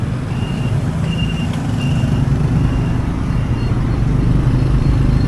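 Honda Wave motorbike carrying two riders through dense traffic, a continuous loud engine drone and road rumble with surrounding vehicle noise and faint intermittent beeps.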